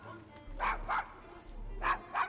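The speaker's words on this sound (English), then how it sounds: "Is your dog quite all right?" A dog in the Assassin's Creed Syndicate video game barks four times in two quick pairs, the short gruff barks fairly close over a low hum of game ambience.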